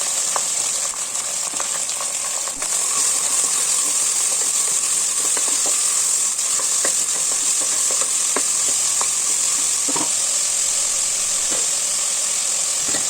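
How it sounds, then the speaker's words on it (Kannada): Onion, green chili and curry leaves frying in hot oil in a pan, giving a steady, loud sizzle with faint crackles and stirring clicks throughout, close by and with no talking. "ಕರಿಬೇವಿನ ಸೊಪ್ಪು ಹಾಕೋತಾ ಇದ್ದೀನಿ, ಹಾಗೆ ಹಚ್ಚಿಟ್ಕೊಂಡಿರೋಂಥ ಈರುಳ್ಳಿ ಮತ್ತು ಮೆಣಸಿನಕಾಯಿ ಕೂಡ ಹಾಕೊತಾ ಇದ್ದೀನಿ"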